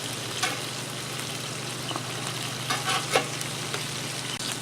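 Meatloaf burgers sizzle on a Blackstone griddle in a steady, moderate frying hiss, broken by a few soft scraping clicks as they are turned.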